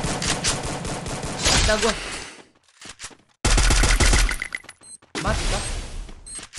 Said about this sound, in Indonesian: Gak pede gua nembak pakai Barretta.